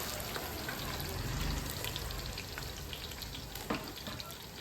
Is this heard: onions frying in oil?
yes